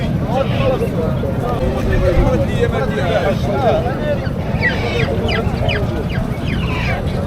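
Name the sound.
ducks, geese and chickens at a livestock market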